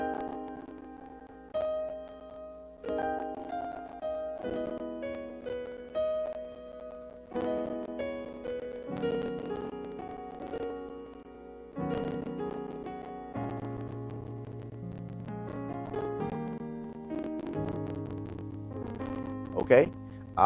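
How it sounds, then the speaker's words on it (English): Gospel piano playing a slow sequence of polychords, rich stacked chords struck one after another with sustained, ringing decays and melody notes on top, heard solo and close. "Okay, all right, so those were polychords."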